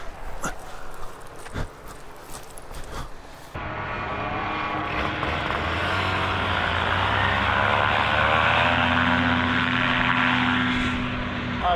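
Small propeller airplane engine at a fly-in, a faint rumble that swells into a loud, steady drone as throttle is added, close and sustained with no talking.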